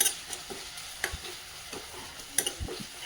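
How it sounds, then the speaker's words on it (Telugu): Onions frying in a pan until light brown while being stirred, a low steady sizzle broken by repeated scraping strokes of a spoon, close and fairly quiet with no talk. "ఇవి కొంచెం లైట్ బ్రౌన్ వచ్చినంత వరకు వేయించుకోవాలన్నమాట."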